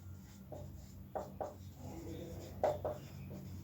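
Writing on a board during a class 10 maths lecture. A handful of short scratchy strokes and taps sound at irregular intervals, close and moderately soft, over a faint room murmur.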